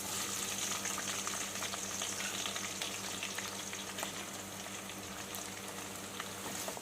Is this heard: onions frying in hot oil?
yes